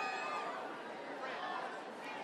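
A crowd of fans at a Hobbs and Shaw film premiere, a steady dense wash of chatter and cheering voices heard from within the crowd, with mixed talk throughout.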